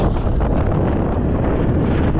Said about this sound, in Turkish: Rüzgar çok sert